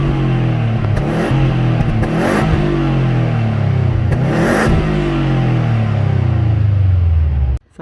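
A Subaru Impreza WRX hatch with a new Japspeed full catback exhaust revs hard and loud up close, rising and falling in two long sweeps with a deep, throaty exhaust rumble, then cuts off at the end.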